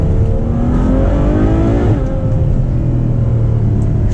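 A Ferrari 812 Superfast's V12 engine revs hard through manual gear shifts, a loud close rumbling roar rising in pitch, dropping sharply at a shift and climbing again.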